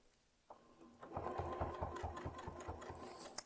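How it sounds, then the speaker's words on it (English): A sewing machine starts on a quilt line, its motor whirring up as the needle settles into a quick even chatter, fairly quiet and close. "I'm ready to sew this first line."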